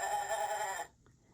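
A single goat on a farm gives a short, fairly loud bleat that cuts off abruptly, leaving near silence.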